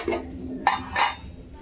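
A spatula scrapes and clinks against a metal kadai as food is stirred, two or three sharp close metallic knocks over a quiet background.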